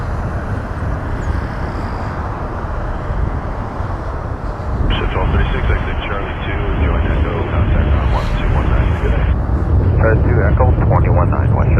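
An airliner at Toronto Pearson airport rumbles steadily in the distance, its broadband roar swelling and growing louder toward the end, with a voice speaking over it.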